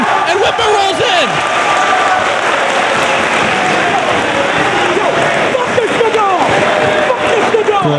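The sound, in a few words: wrestling crowd applauding Whitmer rolling into the ring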